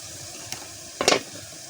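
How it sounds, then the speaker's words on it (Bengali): Oil hitting a hot pan while a village-style pangas fish curry is cooked, giving one short, bright burst of sizzling that fades quickly against quiet room tone. "এই যে তেল ছাড়ে দিচ্ছে"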